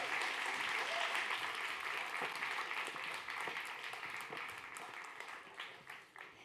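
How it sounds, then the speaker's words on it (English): An audience at a startup demo day applauds a pitching team, a full burst of clapping that gradually thins and fades toward the end. "A big round of applause."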